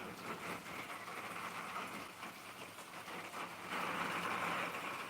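Rain falls steadily during a storm, a soft, even hiss of drops that swells a little near the end, with no thunder or voices.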